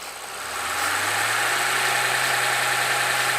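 A Mercedes CL65 AMG engine starts up and holds a steady, loud idle-to-raised drone, a continuous low hum with a rumbling undertone that builds in the first second and then stays even.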